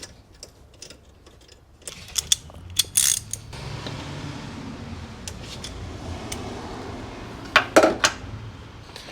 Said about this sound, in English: Then we'll get our bolt in.